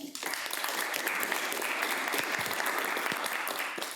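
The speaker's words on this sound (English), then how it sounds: "Give them a round of applause" Lunch-and-learn audience applause for advisors: a loud, steady wash of many people clapping close by for several seconds, with a few voices mixed in.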